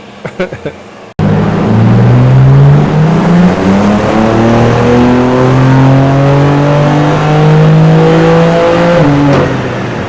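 BMW G82 M4 Jahre Edition engine revving hard on a dyno, a loud sustained pull with rising harmonics climbing steadily for about eight seconds before cutting off, preceded by a brief clatter.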